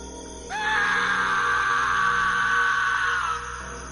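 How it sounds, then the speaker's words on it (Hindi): A single long, loud scream from a man rises sharply and holds steady for about three seconds before cutting off, with no talking around it. "अरे, ये तो राजू की चीख है।"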